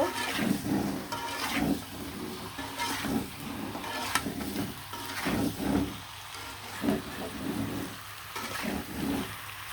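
Spice-marinated chicken pieces frying in hot oil, with a steady broadband sizzle and repeated scraping strokes of a spoon stirring the meat in the pan, close and continuous without talk.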